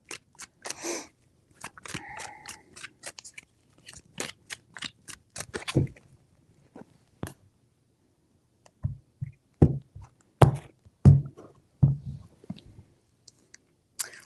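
Tarot cards are shuffled close up in a series of quick, crisp riffling and tapping bursts, with irregular pauses between handfuls.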